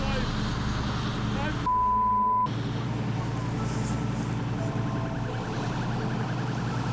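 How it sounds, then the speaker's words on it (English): Approaching sirens wail through steady highway roadside noise at a crash scene, a brief electronic tone cutting in partway, with voices faintly present underneath. "I hear sirens are coming."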